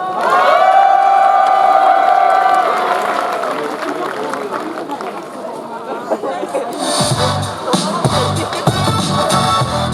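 Crowd at an outdoor military-civilian festival in Daejeon cheers and claps loudly for a singer, a sustained roar with music and chatter mixed in, building into heavier cheering near the end.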